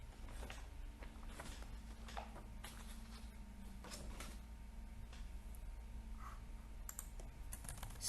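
Keystrokes on a computer keyboard come in irregular bursts and single taps, fairly quiet over a steady low hum, with no voices.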